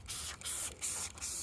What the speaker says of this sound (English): spray a bit of that over there